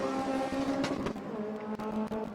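A K24-powered Honda S2000 race car on nitrous accelerates hard, its engine a loud, sustained, rising roar with a short dip in the middle.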